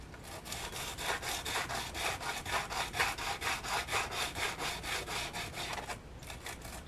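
Sanding the edge of a wooden table leg by hand: rapid, regular back-and-forth rasping strokes, loud and close, running steadily with a brief pause near the end.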